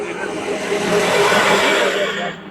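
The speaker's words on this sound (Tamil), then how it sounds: "லாரி" A lorry passes on a road, its engine noise rising as it approaches and then falling away in a broad steady rush that lasts about two seconds.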